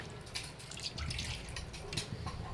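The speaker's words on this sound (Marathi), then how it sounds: "आपल्याला पाणी पाहिजे तेवढं आता ओतून घ्यायचंय." Water being poured into a pot of mutton curry, heard as a soft, continuous trickling and splashing at close range without any talk.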